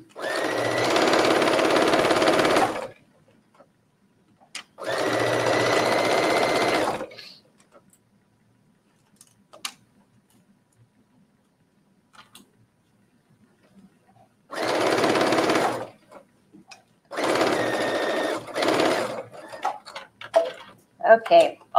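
Sewing machine stitching binding onto a bathing suit coverup in four close, loud bursts of steady whirring separated by quiet pauses, with faint clicks and handling sounds near the end.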